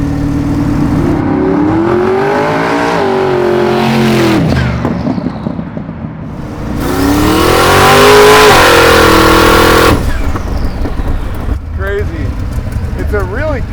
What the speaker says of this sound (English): It's a really controlled wheel spin that you get, isn't it?